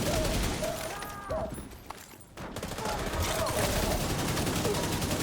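Gunfire from a zombie-shooting video game rattles in a dense, continuous stream of rapid shots that dips briefly and then resumes, heard under a talking voice.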